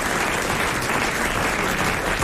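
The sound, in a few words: studio audience applause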